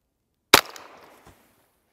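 A single sharp, loud crack from a .22 Long Rifle CCI Mini-Mag round fired at a 2-liter plastic bottle, followed by a short decaying tail and a faint thud a moment later, with no voices.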